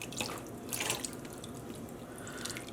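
A cup from a dyeing session being rinsed under a running tap at the sink, with steady splashing water and a few drips, close and fairly quiet.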